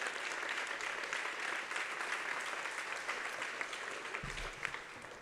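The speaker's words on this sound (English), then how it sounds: "So please give them a round of applause." Steady applause from a crowd at an 8th grade graduation ceremony, a dense wash of clapping that holds at an even level throughout, with no voices.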